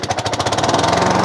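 Honda lawn mower engine firing up on choke at full throttle, a loud close rapid chugging that settles into a fast, even, pulsing drone.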